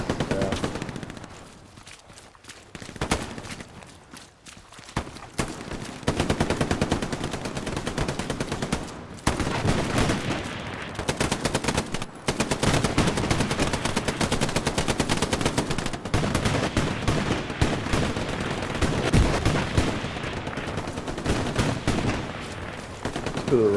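Sustained gunfire and tank fire in the WWII shooter game Hell Let Loose: dense, loud rattling bursts of automatic weapons and heavy booms running almost continuously, with only a brief lull near the start.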